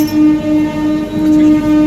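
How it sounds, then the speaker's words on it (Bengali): Express train 12863 from Howrah to Katpadi pulling out of a station, a brief loud steady rumble with a sustained horn-like tone running through it. "স্টেশন থেকে ছেড়ে দিল"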